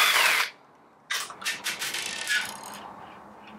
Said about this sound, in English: We're going to remove the three Phillips screws that hold the white gearbox housing to the chassis.